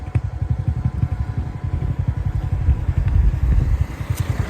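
Motorbike carrying riders to a football match, its engine humming and pulsing steadily close by with road noise, with no talk over it.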